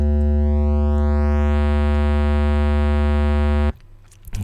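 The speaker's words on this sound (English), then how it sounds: "we turned effectively a sine wave into a square wave" A low synth tone from Sylenth1 is distorted until its sine wave is hard-clipped into a buzzy square wave, holding a loud, steady, harmonically rich drone before it cuts off abruptly to near silence.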